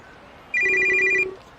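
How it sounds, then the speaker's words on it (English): A phone vibrating as a video game sound effect, a short buzzing alert with steady repeated pulses lasting under a second, loud and close against a quiet background. "My phone vibrates"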